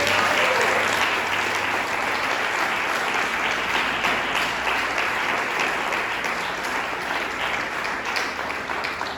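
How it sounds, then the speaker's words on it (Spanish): Congregation in a church service clapping together, a dense, steady roar of many hands applauding for about nine seconds, loud and sustained without pauses. "Denle un aplauso al Señor por eso."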